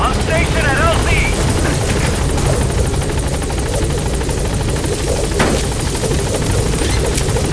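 A helicopter hovers on station at a landing zone in Metal Gear Solid V, its loud rotor drone steady and close throughout, with radio voices over it.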